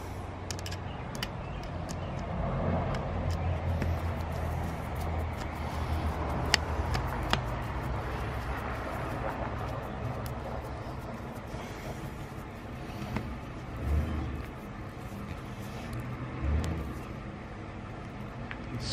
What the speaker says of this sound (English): Oh, we got a truck coming.